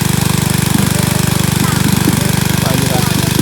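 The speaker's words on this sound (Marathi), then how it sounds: "हा बघा इकडे या साईडला मोटार लावलंय" A motor driving a water pump runs with a steady, rapid pulsing drone, loud and close, under intermittent background talk.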